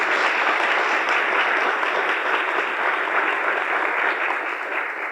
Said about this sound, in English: Let's give our manager and our staff a round of applause.